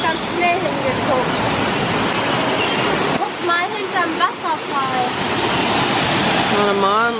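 Steady rushing water from an indoor waterfall at Hagenbeck's Tropical Aquarium roars throughout, with excited voices and high chattering sounds mixed in over the constant spray.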